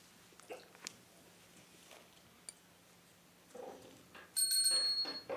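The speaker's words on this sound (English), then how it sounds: "Oh, I hear bells." Near the end a bright bicycle bell rings out after quiet shuffling and a few soft knocks.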